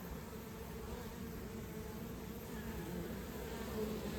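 Honeybees buzz around their hives in a steady, faint, continuous drone, outdoors with no talking.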